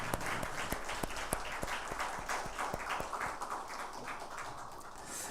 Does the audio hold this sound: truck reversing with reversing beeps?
no